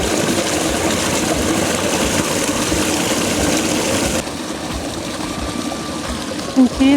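Strong stream of water rushing under ice in December, a steady loud broadband wash with constant flow, dropping slightly partway through.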